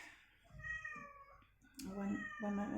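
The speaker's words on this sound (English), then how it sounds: "I'm sorry if you hear my kitty meowing." A pet cat meows insistently indoors during a tarot card reading: several close, loud meows in a row, with a voice speaking briefly alongside.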